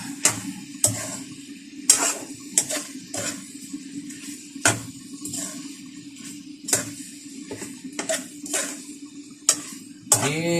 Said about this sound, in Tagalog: Ihalo-haluin natin para hindi dumikit yung ano.